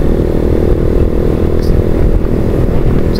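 A Honda TMX 155 motorcycle runs at high speed during a top speed test on a straight road, its engine a loud, continuous close drone with steady rough clatter and no talk.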